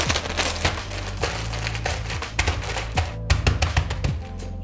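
Small plastic bags crinkle and rustle in close-up handling as fish is packed for freezing, with irregular sharp crackles and taps and no talk.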